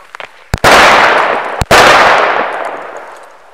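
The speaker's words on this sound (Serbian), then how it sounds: "Stvarno vredi kad se stavi upaljač, pojača se petarde." Two loud firecracker blasts go off close by, boosted by a lighter, each a sharp bang followed by a long crackling, hissing decay.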